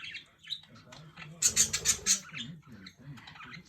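Three pet budgies squawk and chirp while playing, quick close bursts of sharp, scratchy calls with a louder flurry in the middle of the clip.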